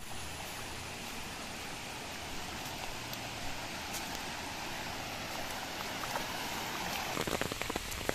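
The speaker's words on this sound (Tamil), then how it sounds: "கொஞ்சம் மழை பார்த்தீங்கன்னா திடீர்னு ஹெவியாக இருக்குது." Heavy rain pours steadily through a forest on the trek toward Dudhsagar Falls, a dense continuous hiss with scattered drop impacts that grows slightly stronger near the end; no voices.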